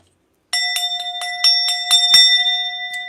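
A small hand bell rings rapidly after a moment of silence, around eight bright metallic strikes in quick succession with sustained ringing tones, loud and close, followed by one last ring.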